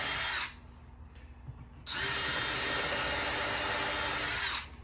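A power drill drilling pilot holes in MDF runs in two bursts: a short whine, a pause with faint background noise, then a longer steady drilling run.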